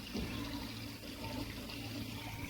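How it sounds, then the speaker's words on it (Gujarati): Water runs and splashes steadily as it fills a small water tank in a cattle shed, a continuous close gushing with no talking. "પાણી આવી ગયું છે જોઈ શકો જો પાણી આવે છે ચોકુંડી કુંડી ભરાવવા લાગી છે"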